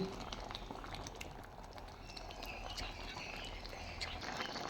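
Cauliflower simmers in a pot of water with four or five chopped green chillies, a steady, close bubbling that carries on evenly throughout.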